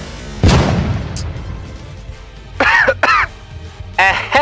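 A single throat clearing comes up close and loud at the start, with bursts of electronic, game-like effects following.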